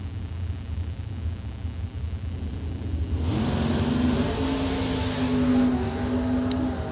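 Drag racing cars, including an Oldsmobile Cutlass Calais, launch off the starting line at a drag strip, building from a low idle into a loud, sustained roaring rev. A rising engine whine carries through the second half.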